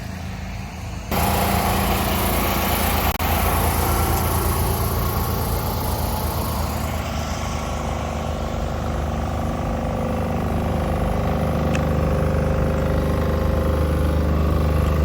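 A large generator outdoors in a Ukrainian city starts up after a second of quiet, then runs with a loud, steady engine drone and hum that persists unbroken, with no voices.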